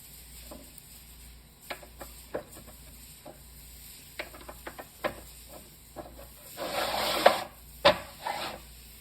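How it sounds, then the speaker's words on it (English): Clamps on a pottery wheel being flipped around and metal rods slid into place, heard as scattered close knocks and clicks with a longer scraping rub near the end. "flip these clamps around and put the rods in"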